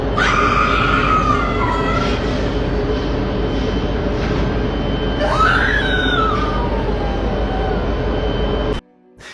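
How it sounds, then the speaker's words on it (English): At a port during a night shift, a woman's high, wavering scream rises twice over a steady low industrial drone, loud and sustained before cutting off abruptly at the end. "that's definitely a woman screaming"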